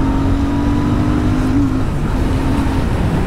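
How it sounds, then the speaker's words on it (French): A Royal Enfield Super Meteor 650 motorcycle engine rumbles loudly and continuously up close, its pitch rising and falling slightly, with steady wind and road noise. "le bruit du moteur est vraiment agréable"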